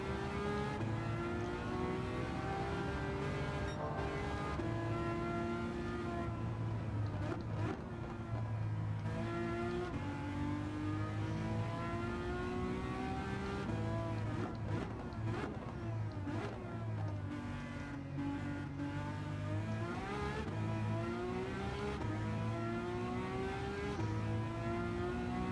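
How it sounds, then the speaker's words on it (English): A Ferrari LaFerrari engine in the racing game Gran Turismo 7 on the Sardegna Road A track, a loud continuous roar that climbs and falls with revs and quick shifts, steady throughout with no talk. "This engine shouts very, very loud."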